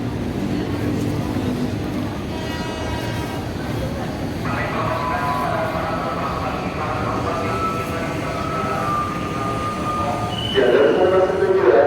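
A 12-car commuter train enters Tanah Abang station with a steady rumble and droning mechanical tones that shift as it moves, under echoing platform announcements.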